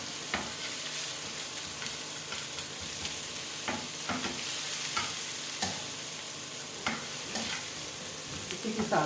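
Food being stirred and mixed in a hot pan with salt and fresh coriander, a continuous close sizzle broken by repeated sharp scrapes and taps of a spoon against the pan.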